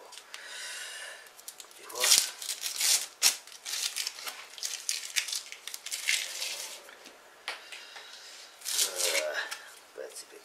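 Masking tape peeled slowly off an acrylic painting, giving a series of close raspy tearing strips in several separate pulls.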